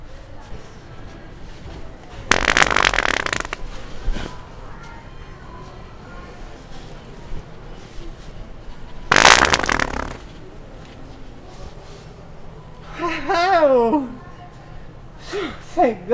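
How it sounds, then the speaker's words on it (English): Loud bursts from a fart toy, two long raspy blasts a few seconds apart, followed by higher squeaky sputters, with people talking around them. "That's a fart."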